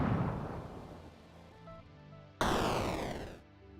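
An 8-bit retro game explosion effect: a noisy low-end burst that decays, followed by a second sharp bright blast that cuts off abruptly, loud and alone with no talking.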